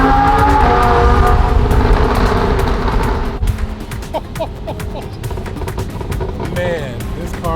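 A Nissan GT-R accelerates hard, its engine roaring loud and close before dropping to a lower drone with turbo whooshes and flutter, while people talk excitedly over it.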